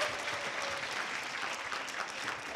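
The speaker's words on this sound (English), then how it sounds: "Let's give them a huge round of applause." Wedding guests at a reception applaud the couple with a brief, steady burst of dense clapping at moderate volume.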